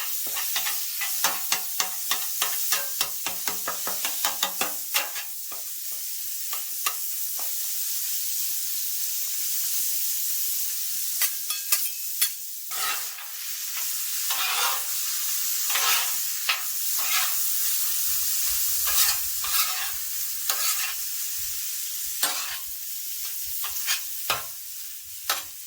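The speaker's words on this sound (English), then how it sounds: "Render some bacon. Throw on some ground pork." Bacon and ground pork sizzle in a hot pan while being stirred, with bright crackling and repeated scraping strokes, the frying settling into a softer hiss with intermittent stirring clatter.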